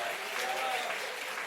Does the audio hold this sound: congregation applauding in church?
yes